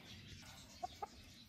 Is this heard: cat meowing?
no